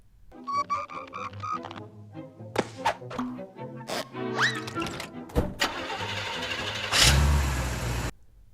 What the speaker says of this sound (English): He drives away as Stimpy returns to the lab